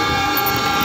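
A CC300 model locomotive runs on a toy train track, giving a loud, close, continuous motor whir with a thin high whine and no voices.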